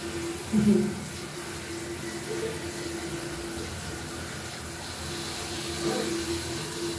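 Running water from a shower used to wash a husky dog, a steady hiss and splatter that continues throughout, with a few faint thumps and some quiet talking in the background.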